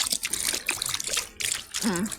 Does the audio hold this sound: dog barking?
no